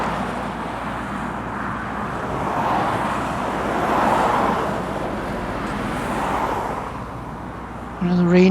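A truck on the A16 or A17 road in Lincolnshire rolls past, a steady broad roadway rumble rising and falling as it goes by, with a louder, closer engine note at the very end.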